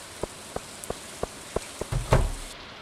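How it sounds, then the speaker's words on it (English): Steady rain from the farming game Stardew Valley patters over a hiss of falling water, with a run of evenly spaced soft taps and a brief louder splash near the end, and no voices. "It's raining."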